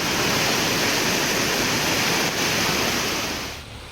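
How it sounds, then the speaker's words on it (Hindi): The flooded Tamsa river rushes after heavy rain near a temple, a loud, dense, continuous roar of fast water that fades slightly at the end. "तेज बारिश के बाद तमसा नदी का पानी मंदिर के हॉल तक पहुंच गया।"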